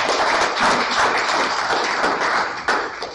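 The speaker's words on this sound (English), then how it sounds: "I'll have a round of applause for our pterosaur." A lecture audience claps in a round of applause, sustained and fairly close, a dense patter of hands that holds steady, then tapers near the end.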